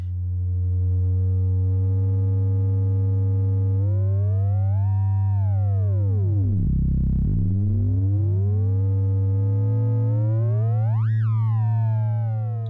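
A steady frequency-modulated sine wave from an analog Eurorack synthesizer oscillator warps as its pitch and overtones sweep up and down, producing glassy, bending harmonics that swell and dip before settling.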